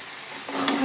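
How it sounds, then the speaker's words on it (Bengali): Broken rice grains fry in oil with potatoes, a steady close hiss that rises into a louder sizzle and a quick scrape of stirring near the end, with no voices. "চালটাকে যেমন পোলাওয়ের চাল যেমন ভালোভাবে ভেজে নেওয়া হয় নেড়ে চেড়ে ঠিক সেভাবেই ভেজে নিতে হবে"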